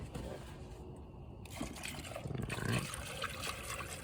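Liquid pours into the coolant reservoir of a Ford Focus during a heater hose replacement, a close steady trickle and gurgle that grows fuller and slightly louder as the tank fills.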